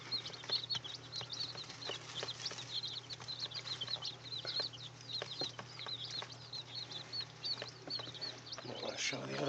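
Old English assorted chicks in a cage cheep constantly, with many high peeping calls overlapping close by above a low steady hum and faint background voices.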